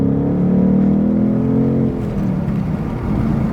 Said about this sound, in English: Every time you turn a gear down, that noise you get is unique.